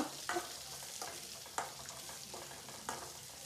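Two onions and two tomatoes fry in a pan with a quiet, continuous sizzle, punctuated by a few distinct scraping stirs of a spatula, with no speech.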